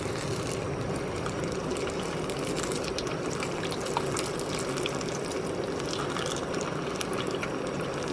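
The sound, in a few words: piece of fish cooking in a canteen cup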